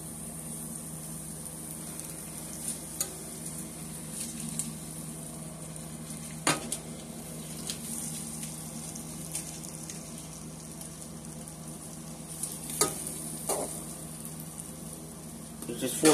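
Corn sizzles and crackles steadily in melted butter in a pan, a soft continuous frying hiss with occasional sharper pops and utensil clicks, while a person talks intermittently.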